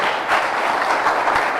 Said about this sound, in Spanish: dale un aplauso al Señor fuerte, hermano